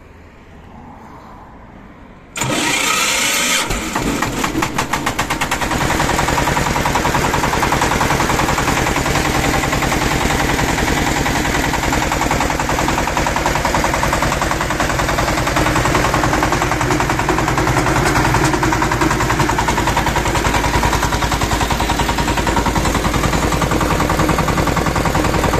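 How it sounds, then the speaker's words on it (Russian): A Chinese Scout T-25 tractor engine cranks and catches, then runs steadily at close range with a loud, rapid diesel clatter that continues alone for over twenty seconds. "Давайте запустим трактор."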